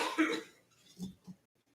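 A person coughs close by: one harsh cough, then two softer, shorter coughs trailing off into quiet.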